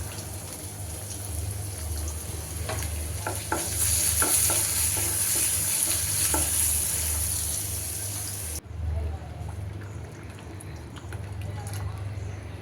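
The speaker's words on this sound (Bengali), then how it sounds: "তো ডালটাও বাগার দিয়ে দিলাম" Dal being tempered (baghar) with hot oil in a home kitchen, giving a loud, bright sizzling hiss over steady frying noise that cuts off abruptly partway through, leaving a quieter simmer with occasional stirring clinks.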